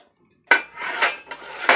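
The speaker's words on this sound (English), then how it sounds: "I'll stir that up in there." A utensil clanks against a stainless steel pot while red onions are stirred, giving three or four sharp metallic knocks with soft scraping in between.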